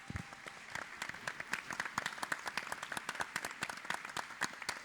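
An audience applauding in memory of Heriberto Fiorillo, a room of people clapping in a busy, even rhythm with distinct individual claps audible, moderately quiet and sustained for about five seconds without speech.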